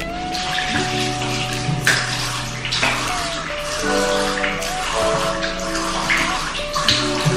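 Tap water runs steadily into a basin while someone washes their face, a continuous splashing rush with music playing underneath throughout.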